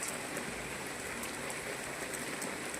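Heavy rain pours steadily over a village on a rainy evening, a dense, even hiss of drops hitting surfaces close by with no break and no voices.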